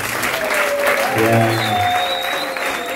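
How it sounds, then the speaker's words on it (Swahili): Audience clapping at a church gathering where guests are welcomed, a steady broadband wash of applause lasting throughout with faint musical tones underneath. "pigia makofi mazuri."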